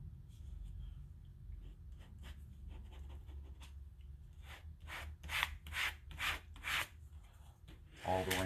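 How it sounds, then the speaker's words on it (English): Application tape gets squeegeed over vinyl graphics on an R/C car body, giving a series of close, soft rubbing and scraping strokes that build louder and more rhythmic toward the end. "take the application tape and just squeegee small pieces at a time until you get all"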